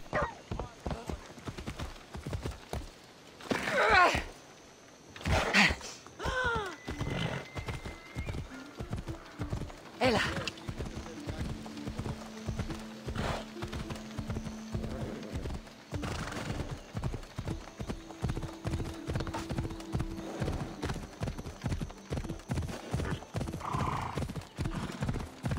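Rhythmic hoofbeats of a horse galloping along a riding course in Assassin's Creed Odyssey fill the scene, with occasional whinnies and someone speaking now and then over the continuous clip-clop.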